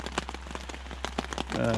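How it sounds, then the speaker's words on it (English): Steady rain pattering on a surface at a mountain lion country campsite, a dense crackle of drops under a voice speaking over it, with a low constant rumble beneath. "So the amount of rain that's falling now is a lot more than that."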